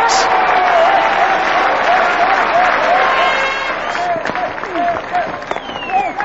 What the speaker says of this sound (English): He gets the standing applause of his Australian teammates.